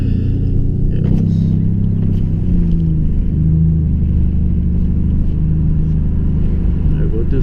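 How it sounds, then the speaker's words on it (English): A 2011 Dodge Charger V6 with a straight pipe drones with a loud, low engine rumble from inside the car, rising and falling in pitch as it pulls, while voices talk over it. "Hear this V6 scream."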